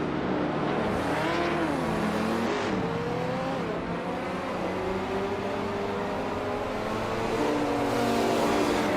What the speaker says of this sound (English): Bot Gary 17 is currently in 8th place, running a 1963 TVR Griffith 200